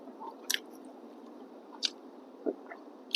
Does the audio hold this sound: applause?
no